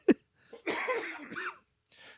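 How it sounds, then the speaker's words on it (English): A single sharp cough, then a short burst of rough, breathy coughing and throat noise, fairly close and loud, trailing off into quiet. "got me fucking coughing again."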